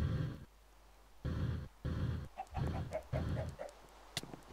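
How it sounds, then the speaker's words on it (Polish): Minecraft chicken clucking in short repeated bursts, several close, loud clucks with brief pauses between them, no talking. "Kurczak."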